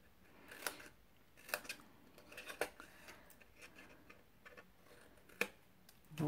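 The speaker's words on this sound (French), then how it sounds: "en coupant en biais à chaque fois à l'intérieur des carrés" Scissors snip through paper in a series of short, soft, irregular cuts, quiet and close, with faint rustling between snips and no talking.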